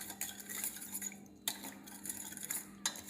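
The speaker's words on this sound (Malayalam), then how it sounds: "ഞാനിപ്പോൾ 1 സ്പൂൺ കോൺഫ്ലവർ എടുത്തിട്ടുണ്ട്. അത് നല്ലോണം ഇളക്കിയെടുക്കാം." A spoon stirring a spoonful of cornflour into mango pulp in a bowl for mango milk pudding, with quiet scraping and clinking strokes, a couple of sharper knocks against the dish, no voices.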